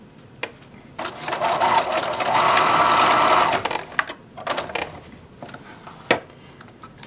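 Sewing machine stitching a straight seam on a large purse pocket, a close mechanical whir that speeds up into a steady run for a couple of seconds, broken by clicks and taps of fabric handling before and after.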